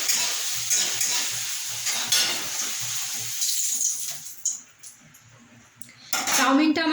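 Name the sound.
vegetables being fried in a pan for chowmein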